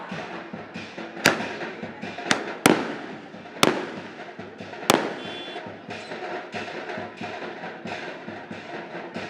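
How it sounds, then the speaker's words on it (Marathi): Firecrackers burst during a Maratha protest march, with several sharp, loud cracks spaced irregularly over a steady background of crowd noise and din. "फटाके फोडले जात आहेत."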